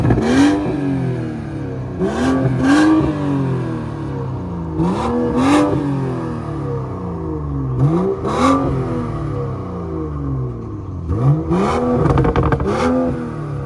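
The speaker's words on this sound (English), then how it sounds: "I'm gonna get a video of Jay revving it real quick for him" A Mustang engine revs repeatedly at a car meet, each blip rising then falling back with crackling burbles, loud and close, in a steady series of pulls with no talk.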